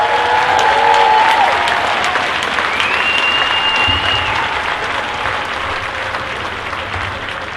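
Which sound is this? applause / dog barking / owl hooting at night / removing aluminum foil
applause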